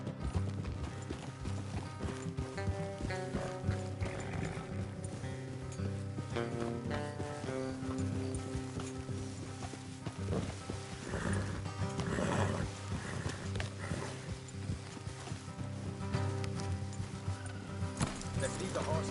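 Horses in the video game Red Dead Redemption 2 clop along at a walk, with hoof beats under game music and a brief whinny; voices talk over the scene at a moderate level.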